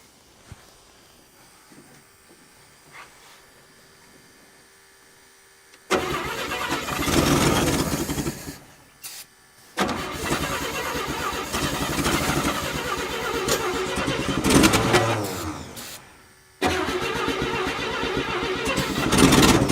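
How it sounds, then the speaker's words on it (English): A 1957 Chevrolet 210 sedan that had sat for about fifty years cranks on a weak, failing starter. Several loud bursts of mechanical grinding break up stretches of quiet, and no one speaks over it. "Starter's starting to go on us."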